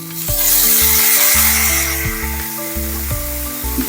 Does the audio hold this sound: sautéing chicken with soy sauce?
yes